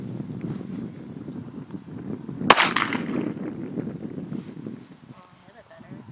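A single sharp handgun shot, fired one-handed at an outdoor range, cracks loudly midway through, surrounded by steady wind noise and faint background murmur.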